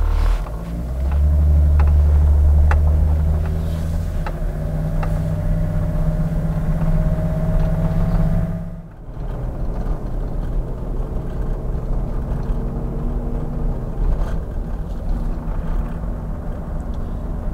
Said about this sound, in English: this is actually my first proper drive of the P38 since I've had it